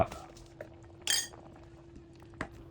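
Faint metal spoon clinks against a pot while beef curry is stirred, a few light scattered taps and one sharper scraping clink in an otherwise quiet kitchen with a low steady hum.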